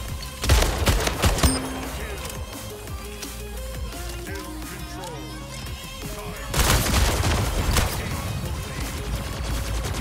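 Gunfire in the video game Splitgate, with dense rapid bursts and sharp cracking shots up close, a quieter stretch of scattered shots and effects in the middle, then heavy sustained firing again.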